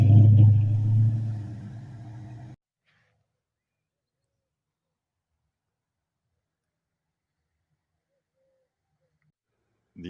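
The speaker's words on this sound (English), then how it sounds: "This is the first car to arrive." A car rolls in to park at a show in a park, its engine rumbling low and close for a couple of seconds before cutting off into silence, with a faint sound returning at the very end.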